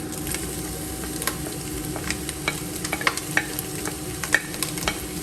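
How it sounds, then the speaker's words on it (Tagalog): Pork sautés in a pan with garlic and onion, giving a close, steady sizzle with scattered crackles and the scrape of a utensil stirring. No voices. "habang nagsasakutsa siya, ilagay ko na yung ating garlic at saka sibuyas"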